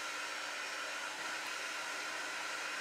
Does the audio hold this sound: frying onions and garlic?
no